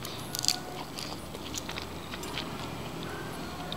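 Crispy fried frozen chicken is bitten with a sharp crunch near the start, followed by quieter crunchy chewing close to the mouth, with no talking.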